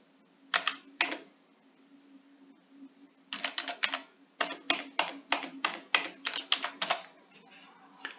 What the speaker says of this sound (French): Donc on rentre un numéro de carte fictive.